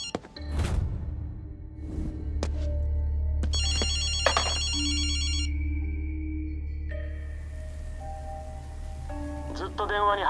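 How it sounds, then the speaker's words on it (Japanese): A telephone rings in the Tokyo video game Ghostwire: Tokyo, with a bright repeating electronic ring pattern over a steady low game rumble, mixed with thumps and whooshes, fairly close and loud, while a voice speaks. "電話だぜ。"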